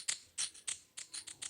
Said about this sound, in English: It's more of a perk loop kind of shaker.